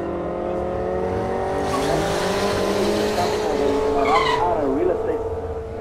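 A race car launches hard at a drag event, its engine revving loud and close while the tires squeal and skid in rising, sweeping tones, with voices in the crowd underneath.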